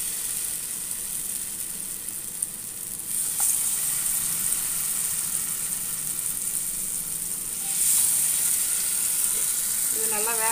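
Masala-coated slices of elephant foot yam (karunai kizhangu) fry in oil with a continuous, moderately quiet sizzle that swells briefly partway through, and a faint voice-like murmur comes in near the end.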